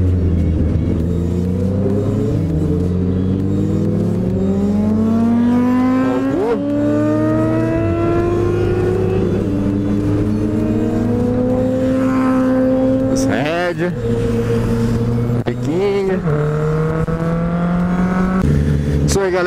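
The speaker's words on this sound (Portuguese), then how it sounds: "Vou deixar as motos passar pra gente ouvir o barulho de todas," A group of motorcycles rides through a highway toll booth in Brazil, their engines droning loudly and close, with the revs rising and falling as the bikes pull away and accelerate one after another.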